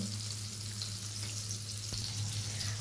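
Taki fish (Channa punctata) fry in a pan with a dense, steady hiss and crackle, close and even throughout with no talking.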